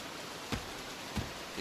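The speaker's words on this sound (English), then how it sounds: "It's raining." Rain in The Nameless Game, a steady soft hiss of falling rain with two brief louder thuds, quiet and without speech.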